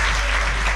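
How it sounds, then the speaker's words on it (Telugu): A church congregation claps hands in praise, a dense and loud burst of many hands clapping together, close and continuous, with no talk. "చప్పట్లు కొట్టి దేవుని స్తుతించండి"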